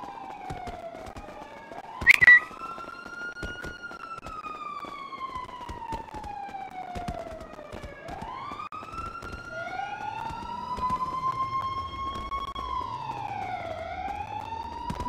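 A police siren wails in long rising and falling sweeps throughout a GTA 5 roleplay scene, loud and steady, with a brief sharp burst early on and no talk over it.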